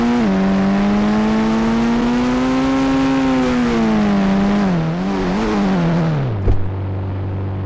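A car is driven in an Indian driving video game, its steady synthetic engine drone rising and falling in pitch as it revs, ending with a sharp knock and a lower idle hum.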